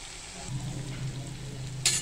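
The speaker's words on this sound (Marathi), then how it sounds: "आता आपण तेलामध्ये भेंडी टाकलेली आहे आणि हे छानपैकी आपण आता भेंडी परतून घेतोय" Okra sautés in hot oil with onion and chili, a faint soft sizzle under a low hum, ending with a brief louder scrape of stirring.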